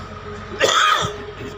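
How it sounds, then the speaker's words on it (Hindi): One sharp, loud cough from a man bursts out close by in a quiet room, followed by a softer throaty catch. "आज खांसी कुछ ज़्यादा हो गई"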